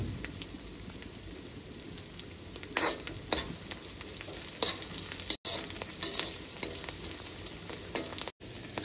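Green chilies and curry leaves fry in a pan for green chicken curry, giving a faint, steady sizzle broken by a few sharper crackling pops.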